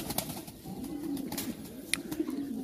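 Pigeons coo close by in soft, rolling, repeated calls, with occasional light clicks and rustles from the birds around them.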